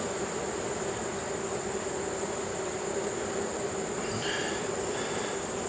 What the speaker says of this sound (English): There's bees on top and below the screen.